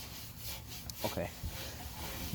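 Scrubbing grime and bird droppings off an old 1970s Westinghouse street light fixture: a few short, close rubbing strokes over a quiet background.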